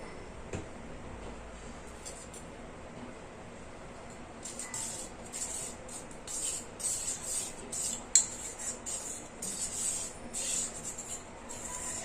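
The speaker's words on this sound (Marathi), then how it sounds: "आता आपण ज्यूस मध्ये कॉर्नफ्लोअर टाकूया। अर्धा कप कॉर्नफ्लोअर घेत आहे। छान मिक्स करून घ्यायचं।" A spoon scraping and rubbing around a bowl as cornflour is stirred into carrot juice, with soft, irregular scrapes that turn busier and louder toward the end, with no talking.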